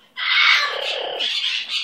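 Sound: pet bird vocalizing

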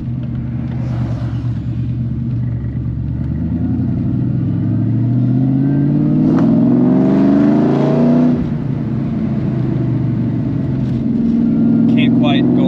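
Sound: 2003 Ford Mustang Cobra engine while driving

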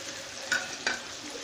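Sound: onion paste added to frying prawns, sizzling

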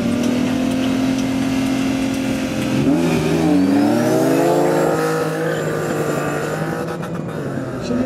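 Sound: BMW E30 2.5 turbo race car engine

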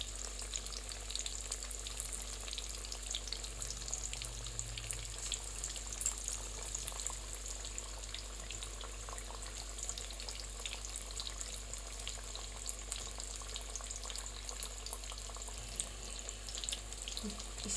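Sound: onion pakoras frying in a kadhai

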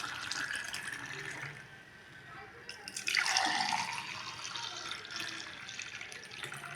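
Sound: pouring filtered vegetable juice into glasses

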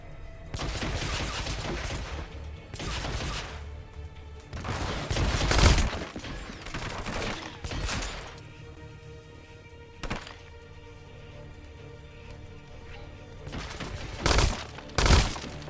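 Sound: gun duel gunfire in the video game Hitman Absolution

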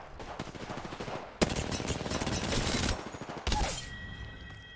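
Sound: gunfire from a player shooting teammates in Apex Legends video game

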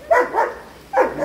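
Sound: dog barking

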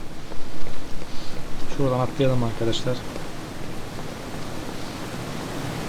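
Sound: waterfall rushing water in Half-Life 2 video game

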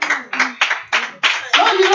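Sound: congregation clapping

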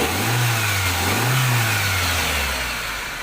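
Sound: Toyota Soluna engine revving after relay replacement

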